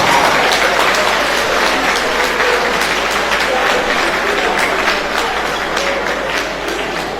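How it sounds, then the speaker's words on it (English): Sustained audience applause fills a university lecture hall, a thick, steady wash of many hands clapping at close range, loud throughout with only a slight fade at the end. "A round of applause, please."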